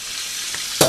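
Creamy grits bubbling and popping in a pot on the stove, a steady hiss with a soft pop midway and a sharper, louder pop right at the end.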